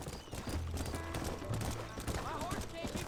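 Horse hooves clip-clopping at a gallop in the Western video game Red Dead Redemption, a steady rhythmic pounding under thick game ambience and low rumble.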